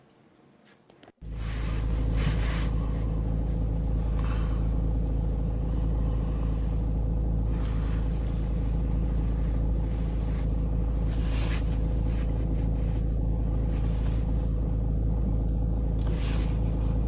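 A car drives steadily, with a loud low engine and road rumble that starts suddenly and carries on evenly throughout, with no talking.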